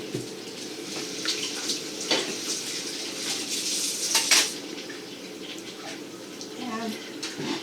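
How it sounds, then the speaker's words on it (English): Tap water runs steadily into a sink as a pumpkin is washed under it, a constant splashing hiss with occasional louder gushes while a voice talks over it. "And I'm going to wash the pumpkin."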